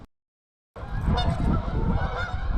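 After a brief silence, a dense wash of honking geese bursts in, loud and continuous, with a rushing flutter of many birds taking off together from an urban pond in December.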